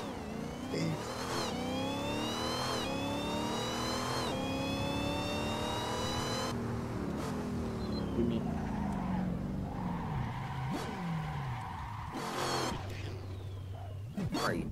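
Jeep Trackhawk engine revving and tires skidding as the SUV spins and slides in the Assetto Corsa racing game, loud continuous engine drone with rising pitch sweeps and squealing throughout, with a voice talking over it.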